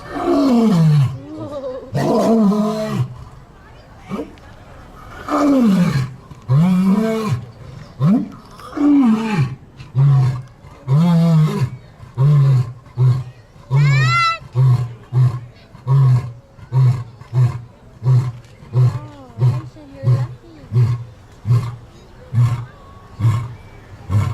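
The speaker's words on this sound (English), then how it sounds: "That's the lion sound." A lion at the San Diego Zoo roars up close, starting with long, deep, rising bellows that settle into a steady run of short, rhythmic grunting roars fading toward the end.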